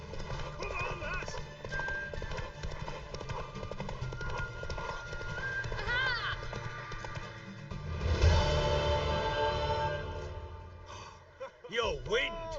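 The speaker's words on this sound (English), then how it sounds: "Worthy of the best horse. The mare is yours." Horse hooves clip-clop at a gallop in The Witcher 3, steady and close throughout. A whinny comes near the end, and game dialogue and music run underneath.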